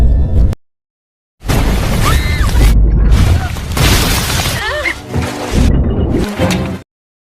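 A building wall is blown apart by an exploding generator in a film scene: a loud, close burst of blast and shattering debris, with whooshes and pops over about five seconds, set between a brief opening rumble and a sudden cutoff.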